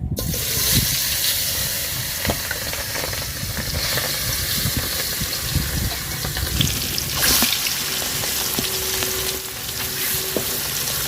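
Pangasius fish pieces rubbed with turmeric and salt sizzle steadily in hot oil over a wood-fired stove, a dense, loud, continuous crackle with occasional sharper pops and faint stirring scrapes throughout.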